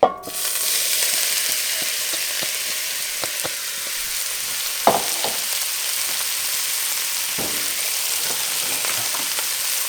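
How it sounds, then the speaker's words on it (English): Vegetables sautéing in olive oil in a pan over lower heat, a loud, steady close-up sizzle and crackle that fills the whole stretch, with a few sharper pops and stirring clatters scattered through it, no talking. "I'm going to add some olive oil since we're cooking at a little bit of a lower temperature. And now I'm going to throw in all my vegetables."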